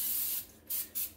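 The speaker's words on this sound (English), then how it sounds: "I use a lot of olive oil in that spray" Olive oil cooking spray hisses into a pan in two or three close, loud bursts, the first long and the later ones short, with no talking.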